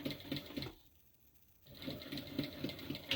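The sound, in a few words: sewing machine backstitching tote bag seam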